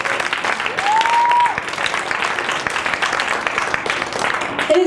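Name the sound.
applause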